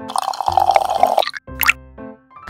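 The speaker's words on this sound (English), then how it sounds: "Finally, we pour cola." Cola poured into a miniature cooking pot gives a steady liquid trickle for about a second, then a brief splashy burst and a few soft drips, close and clear.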